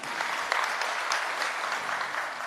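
Loud, steady applause from an audience at a political rally hall in Dhuri, Punjab, clapping for a 92-member team, dense and continuous throughout with no voices over it.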